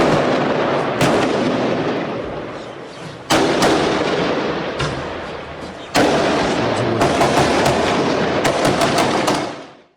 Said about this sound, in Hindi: इजरायली सेना की टुकड़ी पर बम से हमला किया गया